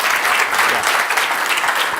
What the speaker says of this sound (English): Please raise a round of applause for Ritesh for his very valuable time.